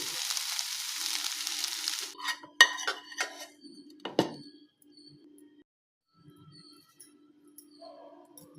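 A spoon stirs coconut chili powder into a potato and onion curry in a pan: a brief sizzle of frying, then scraping clinks and taps of metal on the pan, fading to quiet scattered knocks.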